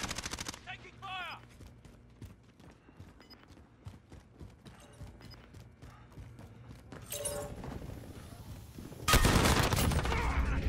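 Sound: gunfire in Call of Duty Modern Warfare video game

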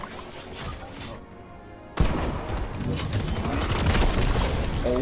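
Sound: gunfire from a gun in a video game

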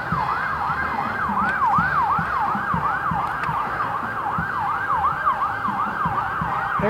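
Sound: ambulance siren passing

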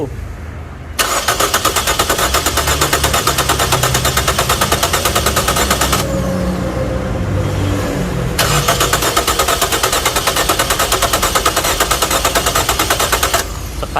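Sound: car engine starting and running

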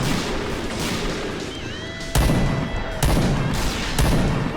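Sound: gunshots in video game PUBG, XM2010 rifle

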